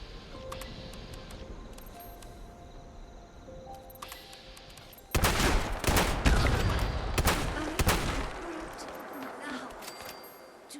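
Shotgun blasts in the Fallout 76 video game, several loud, sharp booming shots fired in quick bursts in the second half, following a quieter stretch of game ambience and soft tones.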